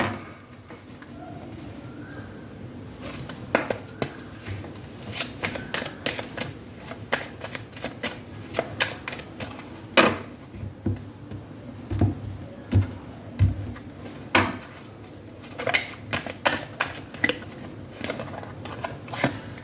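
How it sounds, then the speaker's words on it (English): Tarot cards being handled and drawn from the deck, a steady run of crisp, close flicks and slaps with brief rustling shuffles, with no talk. "Let me take out the other cards as well."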